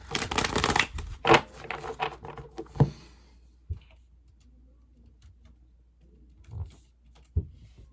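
Cards are shuffled in a quick riffling burst up close, followed by a few soft, scattered taps and clicks in near silence.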